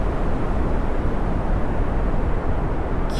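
A rocket engine roars at full throttle in Kerbal Space Program, a dense, steady rumble that stays loud and unbroken throughout.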